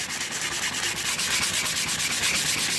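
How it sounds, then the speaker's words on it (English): Sandpaper of 220 grit is rubbed lightly over the worn wooden handle of an old tool in a steady, close, continuous back-and-forth scratch with no voices. "light sand just so I can get the wood kind of back to where it's supposed to be"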